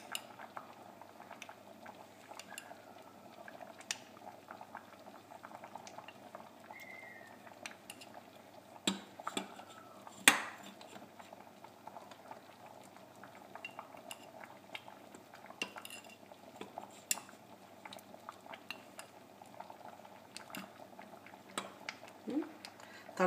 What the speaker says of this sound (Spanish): Y en el caldo echamos el chocolate. Lo movemos para que se deshaga.